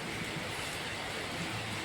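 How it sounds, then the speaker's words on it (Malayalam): Steady rain falls at the Kottiyoor temple festival, an even, close, continuous hiss with no voices or distinct events. "ഈ പ്രാവശ്യം നല്ല രീതിയിൽ തന്നെ മഴ ലഭിച്ചിട്ടുണ്ട്"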